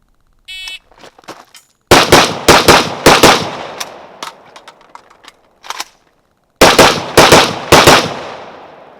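A Zastava M90 AK-pattern rifle in 5.56 fires on an outdoor range in sharp, loud bursts of several quick shots each, with a pause between the groups; a brief metallic reload clatter comes before the shooting.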